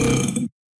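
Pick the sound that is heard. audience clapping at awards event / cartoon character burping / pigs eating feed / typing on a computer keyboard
cartoon character burping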